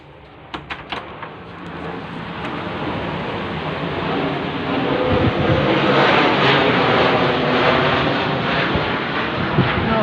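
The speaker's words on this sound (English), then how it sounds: "Those planes are still going over the roof at this time." An airplane passing low over a house roof late at night, a roar that swells from a few early knocks into a loud sustained rushing drone lasting the whole stretch, with no speech.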